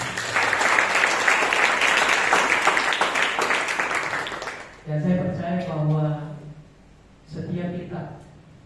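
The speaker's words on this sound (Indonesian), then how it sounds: "berikan tepuk tangan yang baik" Church congregation applauding at a combined worship service, a dense round of clapping for the first half that fades out, followed by a voice speaking over quieter background.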